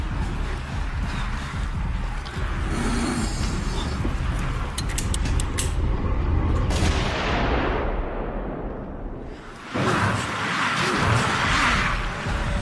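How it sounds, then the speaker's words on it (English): Gunfire in the Resident Evil movie from 2002, loud sharp reports within a dense, noisy action soundtrack, with a sudden drop to quiet before another burst of sound. "cut to Alice's face as he hears the gunshot"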